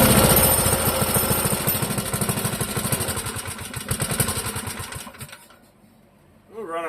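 A Clinton model 3100 small engine runs loud and close at half choke with a rapid chattering putter for about five seconds, then cuts out into near silence before a voice comes in at the end.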